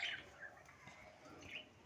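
Caged birds, including African lovebirds, give a few faint, high chirps and tweets at a distance, quiet and sparse over a low background.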